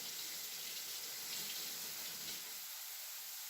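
Cold water runs steadily from a kitchen tap while an onion is rinsed under it, a close, even rushing hiss that barely changes over a few seconds.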